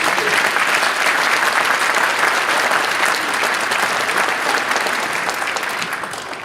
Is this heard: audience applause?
yes